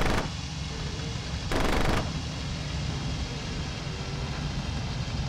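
Sustained rapid autocannon fire from an aircraft in IL-2 Cliffs of Dover, a continuous loud rattling burst with engine drone beneath, swelling briefly in the middle.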